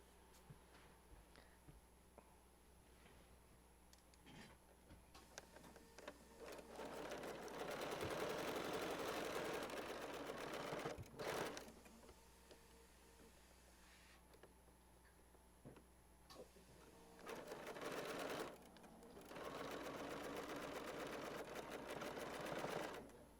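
A sewing machine stitches quilt fabric for a Christmas quilt, running in two steady, close bursts of rapid mechanical whirring separated by quieter pauses.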